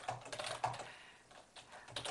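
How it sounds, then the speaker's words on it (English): Quiet typing on a computer keyboard: a rapid run of soft key clicks that pauses briefly midway and resumes, close by with no voices. "Or you can start typing."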